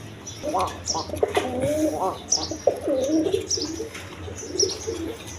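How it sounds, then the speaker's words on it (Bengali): Rasgolla pigeons, a male and a female pair in a seller's loft, coo in repeated throaty bursts close by, with other birds chirping and someone talking over them. "আরেক পেয়ার রাসগোল্লা কবুতর আছে"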